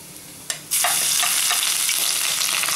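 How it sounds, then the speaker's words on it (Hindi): Garlic, bay leaf, cumin and red chillies hit hot oil for an Amritsari chole tempering. A brief pop is followed by a loud, steady, crackling sizzle that continues close up to the end. "जीरा भी डालेंगे थोड़ा, और ये तेज़पत्ता, और ये 2 लाल मिर्चें डालेंगे, थोड़ा चला लेंगे, और फटाफट से इसमें हम ये लहसुन है वो डाल देंगे"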